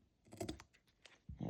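Material for a decorated box is cut by hand, giving a quick run of faint, crisp snipping clicks close by with a short scraping pause, all quiet and without talk.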